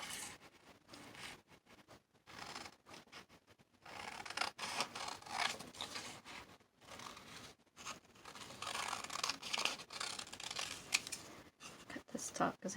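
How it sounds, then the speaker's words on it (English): Scissors snip through paper pieces for a junk journal, irregular close crisp cuts and rustling with brief pauses, fairly quiet. "I'm going to cut these out."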